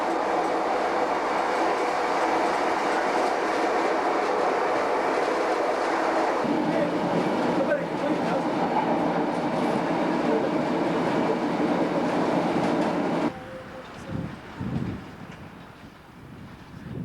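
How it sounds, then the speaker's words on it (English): A diesel multiple unit train runs westbound toward Carlisle in Britain, heard from inside the rear driver's compartment as a steady loud engine drone and rolling rumble that shifts in tone partway through, then eases into quieter rattles near the end. "We're now on a diesel multiple unit train heading westbound towards Carlisle."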